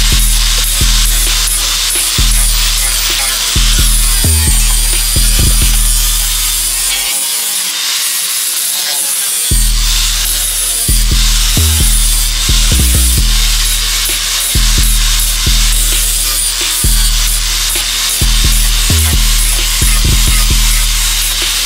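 Rhythmic sanding on wooden speaker door panels, repeated rasping strokes at a steady pace, close and loud, with a short pause partway through.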